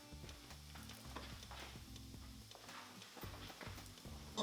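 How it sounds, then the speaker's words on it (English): Spices sizzling in oil inside an Instant Pot while being stirred, a steady soft crackle and fry with repeated light scraping stir strokes throughout, close up and with no talking. "I like to stir it just to make sure that all the ingredients are in the oil and cooking"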